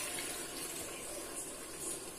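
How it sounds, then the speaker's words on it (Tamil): Water poured into a pot of curry with chili powder during home cooking, a steady broad splashing pour running continuously and fairly close, with no talk over it. "தேவையான அளவு தண்ணீர் ஊத்திக்கோங்க."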